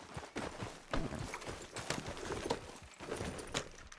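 A horse clip-clopping in the video game Red Dead Redemption 2, steady rhythmic hoofbeats at a trot, close and fairly loud, continuous throughout with no talking.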